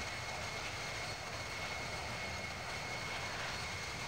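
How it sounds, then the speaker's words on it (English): A fighter jet's engine in the Infinite Flight flight simulator game, a steady, quiet roaring hiss with a faint high whine, constant throughout with no speech. "that fighter jet's going crazy"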